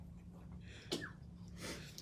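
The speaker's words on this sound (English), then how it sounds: "And now I am going to sneeze." A single sharp sneeze bursts out close by in a quiet room, followed by a breathy exhale.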